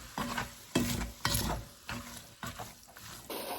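Ground beef fries in a pan, its sizzle lifting in bursts as the meat is stirred, with scraping and clatter every half second or so.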